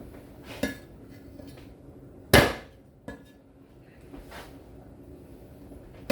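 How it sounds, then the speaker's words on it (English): Garlic smashed for wonton noodle soup broth: a few sharp knocks on a board, one loud strike mid-way with softer ones around it, close up and otherwise quiet. "Now we'll smash the garlic."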